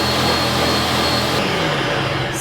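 Blender whirring cocoa, salt and coconut rice milk, a loud continuous motor roar that holds steady and shifts tone slightly partway through.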